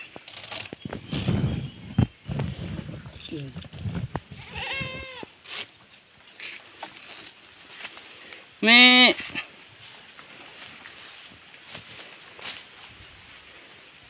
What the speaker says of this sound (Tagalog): ang kambing namin mga ka-idol.